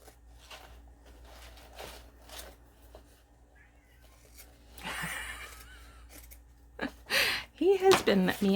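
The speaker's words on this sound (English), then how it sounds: "He has been meowing" A male house cat meows indoors, several short calls that come louder near the end amid quiet rustling and soft handling sounds.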